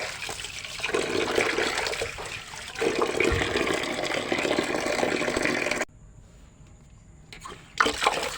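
Tap water pouring from a garden faucet, a steady loud hissing rush that runs for several seconds, cuts off abruptly, then briefly resumes.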